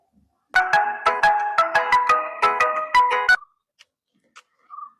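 A telephone rings after a number is dialled, sounding as a bright electronic ringtone: a quick rhythmic series of beeping tones for about three seconds, followed by quiet with a faint short tone at the end.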